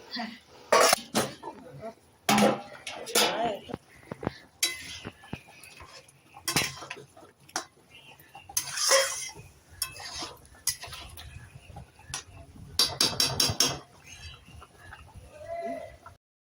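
Spices being stirred in a pan while cooking a Shahi Mughal chicken, with loud metallic clinks and scrapes of a spoon against the pot in irregular bursts, close by, with some voice mixed in.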